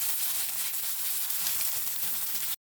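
Fish roe frying in oil in a pan, a steady bright sizzle and crackle throughout, close and even in level, cutting off abruptly at the end with no talk.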